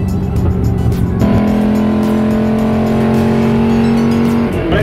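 A race car's engine holds a strong, steady tone at close range after a shift in pitch, with tire noise underneath, loud throughout.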